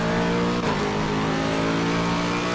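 A Lexus race car in a racing game at the Kyalami circuit roars at high revs, a loud, steady engine note close by with a brief shift in pitch partway through, and no talk over it.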